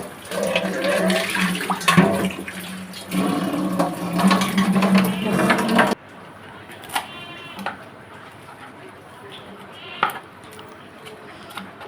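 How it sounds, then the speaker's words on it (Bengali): Culantro leaves from a home garden being washed in water, splashing and running water with rustling handling for several seconds, then quieter occasional drips and knocks. "এই যে আমার বাগানের বিলাতি ধনেপাতা। আমি একটু ভালো করে ধুয়ে কুচি করে নিব।"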